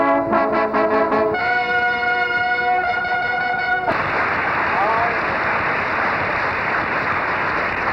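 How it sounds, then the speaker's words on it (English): Happy crowds cheer in the thronged streets of Ghana's capital during a state drive to Flagstaff House, with a sustained roar of cheering and clapping after a few seconds of steady horn-like tones. "cheering crowds"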